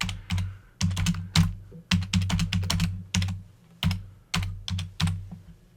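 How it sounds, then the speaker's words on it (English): Someone types quickly on a computer keyboard to enter new text, producing close, crisp bursts of key clicks in uneven clusters, alone without talk. "And I'm going to type in some new text."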